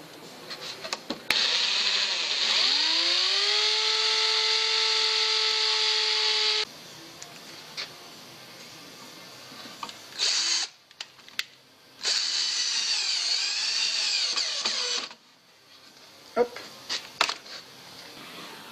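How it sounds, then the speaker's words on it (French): Power drill driving screws into a Suzuki VX800 chopper motorcycle part, several loud close bursts of whirring that ramp up in pitch, separated by pauses with quiet handling noises. "maintenant on va y mettre des vis dedans pour que ça tienne"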